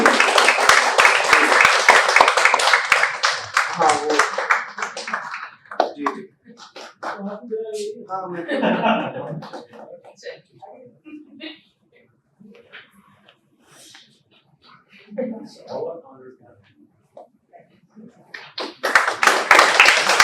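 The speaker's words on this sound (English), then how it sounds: "Please keep applauding." Audience applause at a medical conference award ceremony rises at the start, fades as a voice speaks over scattered claps, then swells into renewed clapping at the end.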